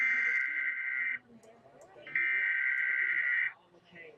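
Emergency broadcast alert tones sound in two long, loud, steady bursts separated by a short gap, with a faint murmur underneath.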